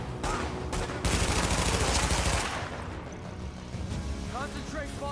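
Heavy gunfire from The Division video game, with dense bursts of automatic fire and fusillades rattling continuously and loudest midway, easing to scattered shots near the end as a voice speaks over it.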